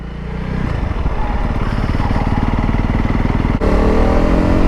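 A 2025 Honda CRF300L Rally motorcycle rides along with a steady, loud engine drone that pulses rhythmically, the pitch climbing briefly before a gear change and settling again.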